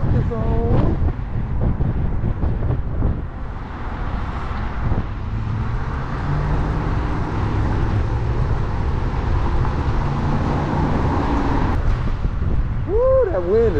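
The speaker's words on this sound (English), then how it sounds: "that wind is blowing" Wind blowing hard outdoors beside a street, a continuous low rumble and gusty microphone buffeting with passing traffic, and a person speaking over it.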